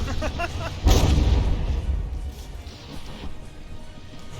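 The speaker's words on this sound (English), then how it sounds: "Oh man, so many explosions." Heavy booming explosions during a battleship battle in From the Depths, one loud near blast followed by a rumbling, crackling tail and fainter distant hits.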